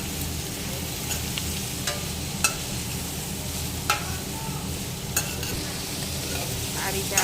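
Onions with coriander-cumin powder, red chili powder and salt fry in a pan under a steady, dense sizzle, with a utensil scraping the pan in crisp, evenly spaced strokes every second or so.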